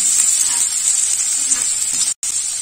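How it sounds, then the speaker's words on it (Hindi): Ginger and garlic sizzle steadily in hot oil in a kadai, a close, continuous bright frying hiss with faint stirring, broken by one brief silent gap near the end. "अब हम इसमें ऐड कर देंगे अपना जिंजर गार्लिक, इसको अच्छे से सौते कर लेंगे"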